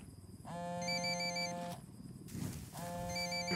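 Cell phone ringing inside the Ghost Recon Wildlands video game, a loud electronic ringtone sounding in two long bursts separated by a brief gap of rumbling game noise.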